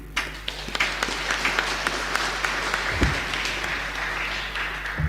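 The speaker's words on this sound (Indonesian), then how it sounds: "Tepuk tangan dulu untuk Yesus." A church congregation claps together during a Sunday sermon, a spread of scattered hand claps over a low steady hum, moderately loud and continuous throughout.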